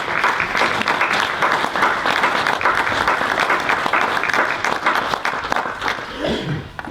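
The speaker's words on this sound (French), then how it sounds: "Je vous demande d'applaudir Cyril Gauthier." An audience at a sponsors' evening for the 2023 Tour du Finistère cycling race applauds a former winner, steady dense clapping filling the room throughout before tapering near the end, with a few voices underneath.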